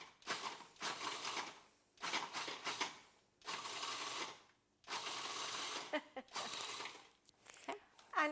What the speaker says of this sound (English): you just put your Oreos in the food processor, and then I just pulse it